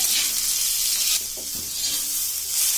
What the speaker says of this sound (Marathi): आता हे व्यवस्थित आपण भाजून घेऊया तव्यावर।